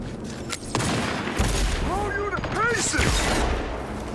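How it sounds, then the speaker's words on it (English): Gunfire from weapons in the video game Cyberpunk 2077: Phantom Liberty, several sharp shots and booming blasts popping over a few seconds amid layered game effects and whooshing tones. "Alright, let's try our guns"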